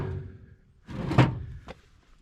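A workshop drawer is pulled open and shoved shut during a hunt for sockets on a dump truck repair job, giving a nearby sliding thunk and a sharper knock, then a fainter clack.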